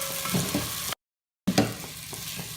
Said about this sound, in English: Add coarsely grinded peanuts and mix it well